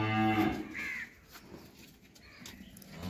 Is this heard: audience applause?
no